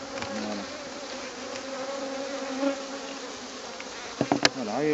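Honey bees buzz around an open hive during a beekeeper's inspection, a dense, continuous droning hum from many insects close by, with a few brief louder passes near the end.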